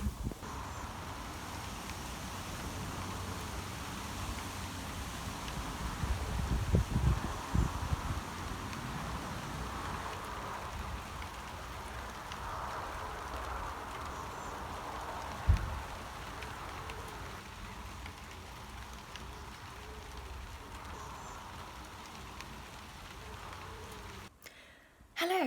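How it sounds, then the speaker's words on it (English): Wind howls and raindrops patter outdoors at sunset, a soft steady rushing wash with a few brief thumps and rustles, faint throughout. "we listen to the howling wind and the pattering of raindrops and all the atmosphere"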